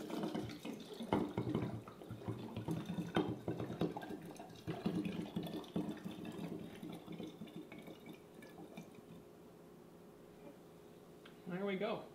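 Homemade prairie fire cider is poured from a freshly opened container, a close liquid splashing and trickling that thins out toward the end, with talk over the first part.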